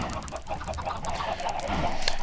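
Chickens cluck in a busy farm scene in the Wolfden video game, with repeated mid-pitched clucks over a dense, loud game soundscape and no talk.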